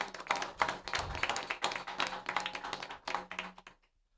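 An audience applauds a sponsor, Perkins Coie, at a venture capital panel event: a dense, moderately loud patter of clapping hands for about three and a half seconds, then cutting off to near silence.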